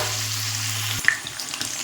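A battered egg fries in hot oil in a wok, giving a steady close sizzle with small pops after a low hum stops.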